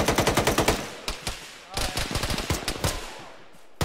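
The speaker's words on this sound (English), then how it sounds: "We're shooting, careful shooting north, because there are friendlies out there." Automatic gunfire in a military video game, with a rapid close burst of shots at the start followed by further bursts and single cracks, loud and dense.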